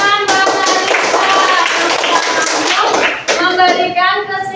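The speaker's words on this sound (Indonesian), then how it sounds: "Iya, tepuk tangan Mbak Arisa" Classroom applause rings out, many hands clapping loudly and steadily for several seconds, with children's voices chattering over and between the claps.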